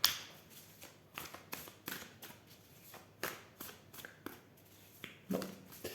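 Tarot cards shuffled by hand, giving soft, quick riffling and slapping bursts at an irregular rhythm. The sound is faint and close, with no talking.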